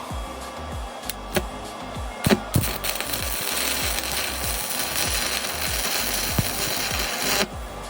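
Arc welding with a START-PRO SPI 250 welder, a 4 mm electrode and 250 amps gives a loud, continuous sizzling crackle with sharp pops scattered through it, running steadily for the whole stretch.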